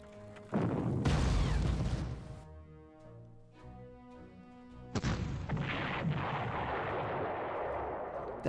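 Artillery fire in the Panzer Corps wargame: two heavy booming blasts, the second arriving about four seconds after the first, each with a long rolling decay, loud and with no voices.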